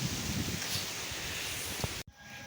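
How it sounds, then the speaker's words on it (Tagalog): Soft rustling of leaves stirred by a breeze, a gentle continuous hiss with light wind buffeting, ending abruptly. "Simoy ng hangin."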